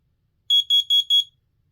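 Kidde P4010 smoke and carbon monoxide alarm sounding its test: four loud, shrill, evenly spaced electronic beeps in quick succession, close to the microphone with silence before and after.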